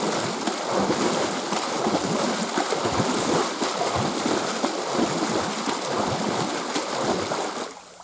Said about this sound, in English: I am turning my palms through the water.